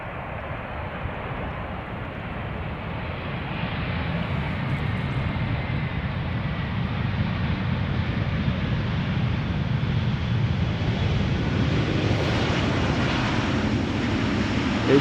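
A 17-year-old airliner arriving at Amsterdam Schiphol Airport produces a loud, steady jet-engine roar that swells slightly as it comes closer and holds for the whole stretch.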